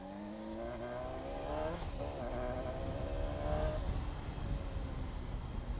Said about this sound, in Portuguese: Gostei do ronco da moto, hein?